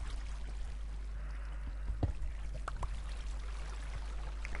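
Flowing water in a Minecraft survival world runs as a steady, soft wash with small splashy ripples and a few brief clicks near the middle.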